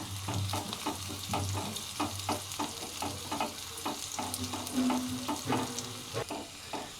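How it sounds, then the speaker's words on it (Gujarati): Onions sizzle and crackle steadily in a hot pan for kadhi tempering, with a utensil stirring and scraping in regular strokes close by; no talking. "આ ડુંગળી સતળાઈ જાય ત્યાં સુધી આપણે રહેવા દેવાનું છે"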